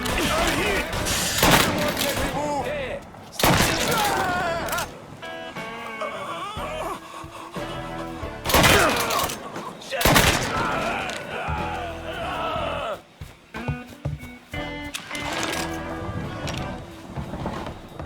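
Gunfire in the video game Mafia 3, a dense burst of loud overlapping shots and impacts with shouted voices over it, followed by sharper scattered pops as the fight continues.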